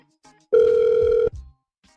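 A single telephone ring sounds on an outgoing call from a radio station, one steady electronic tone lasting under a second, close and loud, framed by quiet.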